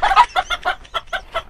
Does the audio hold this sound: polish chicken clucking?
yes